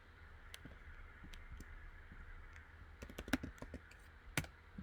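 A command being typed into a computer terminal: quiet, irregular keyboard clicks in bursts, with a few sharper key strikes near the end, close and alone.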